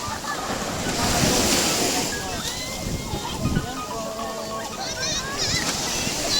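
Sea waves washing and splashing on a nearby coastal beach in a steady, moderately loud surf, with voices and children talking faintly in the background.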